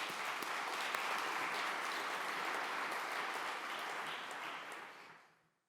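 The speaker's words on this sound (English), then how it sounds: "a quick round of applause for Callie" A large audience at a venture investors' annual meeting claps for an event organizer: steady, dense applause that holds loud for about five seconds, then fades out.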